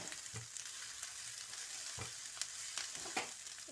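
Boiled noodles and cabbage sizzle steadily in a hot pan, with a few scraping clacks of stirring punctuating the continuous frying hiss.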